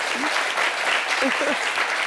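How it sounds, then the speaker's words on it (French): A studio audience applauds on a talk show, a dense, even wash of clapping throughout, with a few brief vocal sounds or cheers over it. "On applaudit pour ça, s'il vous plaît."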